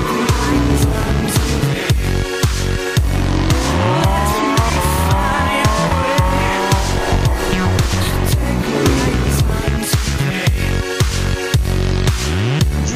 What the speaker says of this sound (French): Sortie de banquise, accélération.